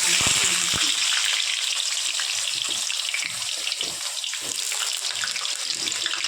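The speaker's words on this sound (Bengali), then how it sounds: "তেলটা গরম হয়ে গেছে" Potato pieces fry in hot oil for mutton kosha, producing a constant close sizzle after a few clanks at the start, with no voices.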